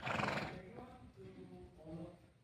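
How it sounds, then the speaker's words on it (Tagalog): A horse at a wild animal park neighs in a loud whinny as it approaches, then gives softer snorting calls, with people talking nearby. "Ay, lumalapit yung kabayo."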